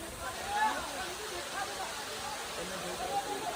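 A waterfall pours down from Girnar in the forest near Junagadh where people bathe, giving a steady, broad rushing roar with faint voices in the background.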